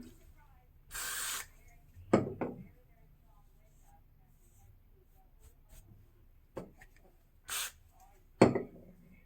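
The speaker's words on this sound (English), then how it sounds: "Okay, I'm gonna do a little bit more spray." Short hissing bursts from a spray bottle, two pairs of sprays separated by quiet, with soft handling sounds near each.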